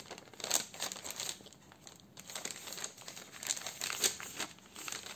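Paper bags for a mini album crinkle and crease close up as they are folded, in soft irregular rustles and crackles.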